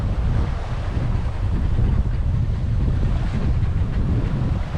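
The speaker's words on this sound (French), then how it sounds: "Puis après il y a plein de vent." Strong wind roars across a sailboat at sea on an Atlantic crossing, with waves washing and surging in a continuous, close, heavy wash of low noise and no talking.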